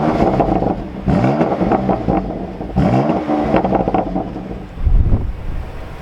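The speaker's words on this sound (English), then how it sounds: "let's do an exhaust test. We've got the M2 Comp Dinan against the OG stock M2." A BMW M2 Competition with a Dinan exhaust revs hard in repeated surges, rising and falling several times, loud and close with some wind buffeting the microphone.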